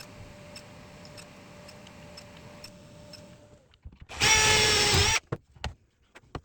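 A power tool cuts pallet wood strips to length in one loud, dense burst lasting about a second, after a steady mechanical whine. Several sharp knocks and clatters of handled wood follow.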